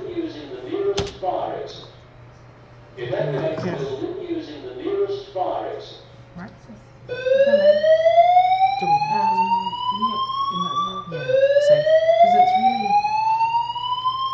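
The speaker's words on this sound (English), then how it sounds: "It's a false alarm. But people can hear it." A fire alarm goes off during an evening show broadcast, its loud rising electronic sweeps repeating in long cycles after a stretch of talk and continuing steadily to the end.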